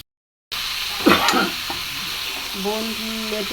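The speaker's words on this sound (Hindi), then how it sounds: "मसाला फ्राई हो रहा है। अभी चिकन डाल रही है।" Masala frying in a pan with chicken just added, a steady close sizzle with stirring and scraping clatter early on and a few faint tonal squeaks near the end.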